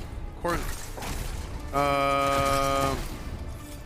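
A voice mimics a corpse explosion sound effect for a game: a short sputtering burst, then a longer buzzing, gritty vocal blast held for over a second before fading, loud and close.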